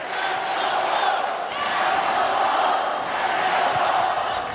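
Hawaii volleyball fans fill an arena with a sustained rhythmic chant of "let's go Bows," a loud, dense crowd roar swelling and holding steady throughout.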